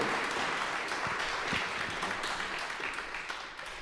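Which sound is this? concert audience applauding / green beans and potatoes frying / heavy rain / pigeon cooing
concert audience applauding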